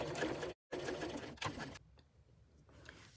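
A sewing machine runs in steady bursts as it top stitches along a seam joining colour-blocked fabric panels, with a brief pause partway through before the machine quietly winds down.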